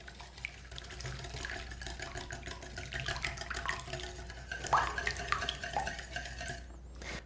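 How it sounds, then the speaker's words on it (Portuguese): Sugar, milk and melted butter stirred together in a bowl, a soft continuous swishing with occasional light clinks of a utensil, close and quiet. "Vou misturar um pouco esses ingredientes."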